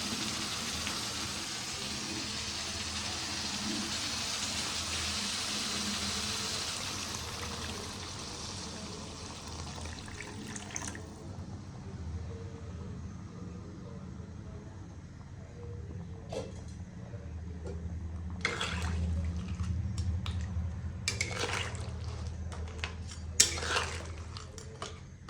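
Water poured into a pan of home-style Odia crab curry makes a steady rushing pour for about ten seconds, followed by quieter simmering and scattered clinks of utensils against the pot.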